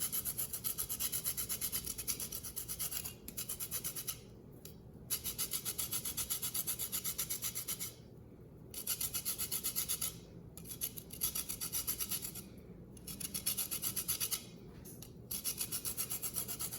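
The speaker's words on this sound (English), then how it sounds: "And then we're gonna take some orange zest." An orange rubbed against a zester, giving rhythmic rasping strokes in bursts of one to two seconds, separated by short pauses and fairly close.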